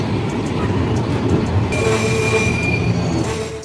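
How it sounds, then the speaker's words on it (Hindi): A Danapur Jogbani Intercity Express train arriving at Narpatganj railway station, with steady, loud rumbling of rolling wheels joined partway through by a sustained high metallic squeal of wheels braking. "ट्रेन हमारी अराइवल हो रही है नरपतगंज रेलवे स्टेशन पे।"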